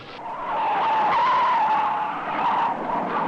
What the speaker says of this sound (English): look at the big car barreling down the street